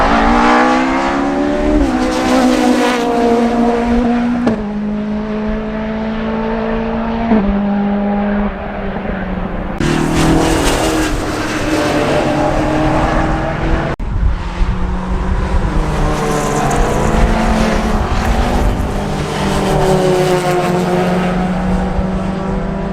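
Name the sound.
1930s Bentley pre-war vintage car running on skid pan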